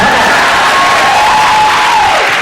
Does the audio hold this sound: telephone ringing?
no